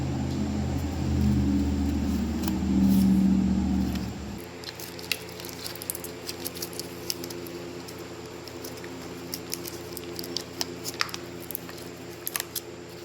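Wiring harness connectors for a 5.3L LS engine swap into a turbo RX7 are plugged together, giving sharp, irregular clicks and snaps over a quiet background after a few seconds of low rumbling handling noise.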